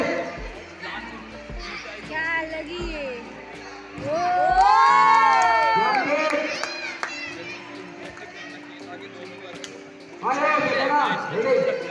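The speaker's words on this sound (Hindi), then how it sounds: "जोरदार तालियों के साथ स्वागत करें।" A crowd at a national self-defence championship cheers to welcome a guest, with shouting children's voices rising in loud bursts amid chatter and a swell of whoops in the middle.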